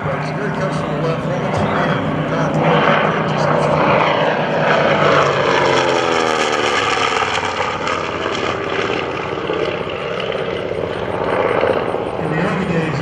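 A TBM Avenger warplane passes at an air show, its loud propeller-engine drone filling the whole stretch with a pitch sweep midway as it goes by, under a commentator's talk.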